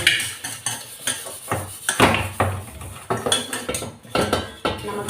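Big pots, large kadai pans and other vessels are scrubbed and washed, with frequent irregular metallic clanks and clatter of cookware knocking together up close.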